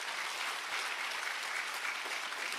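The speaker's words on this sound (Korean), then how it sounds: "믿는 사람만 박수 쳐보시고" A church congregation claps during a Friday worship service in Gwangju, a steady, dense spread of clapping at moderate loudness with no pauses.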